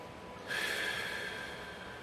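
A single long deep exhale during a back stretch for disc and sciatica recovery, a soft close breath that starts abruptly and trails off, with no talk.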